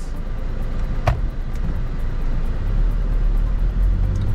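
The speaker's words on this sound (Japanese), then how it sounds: "ブーッと踏んでいきます" An Astrale GX4 camper van accelerates from low speed, its engine rumbling low and close as it builds steadily, with a brief click near the start.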